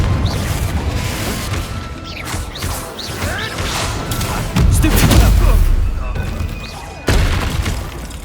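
Loud spell-blast explosions from the Confringo fire curse in Hogwarts Legacy, several booming crashes and impacts in a chaotic duel, with a voice calling out over the noise.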